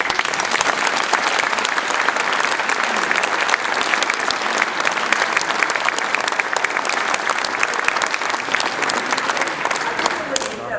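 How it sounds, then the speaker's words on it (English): A large audience claps continuously, loud and sustained, a dense even roar of applause from start to finish. "Join me in a round of applause and appreciation for our panel."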